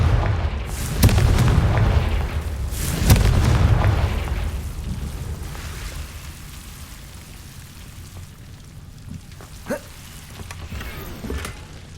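Two heavy booming blasts from the Confringo fire spell in the Hogwarts Legacy video game roll out and fade, followed by quieter crackles and small pops.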